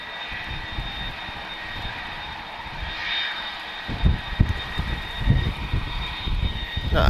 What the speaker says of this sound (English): Great sound from those CF6 engines.